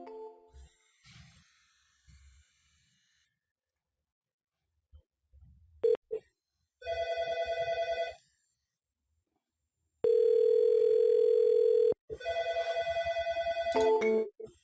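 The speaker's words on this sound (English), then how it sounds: "I'm going to call my voicemail here." A push-button Automarketer office phone system dials into voicemail: brief keypad beeps, then a steady dial tone, followed by repeated electronic ring bursts with silent gaps between them, clear and close with no talking.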